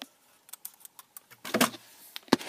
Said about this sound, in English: Down here, we have, like, the keyboard and mouse.